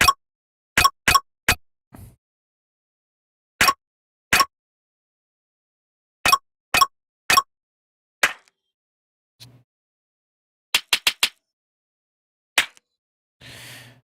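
A snare drum sample for a dariacore track is played back in short, sharp, separate hits with irregular gaps, crisp and close, and a few softer thuds and blips fall between them.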